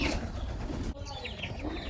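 Domestic pigeons kept in an open, free-ranging loft cooing softly nearby, low rounded calls repeating over a steady background with faint chirps later.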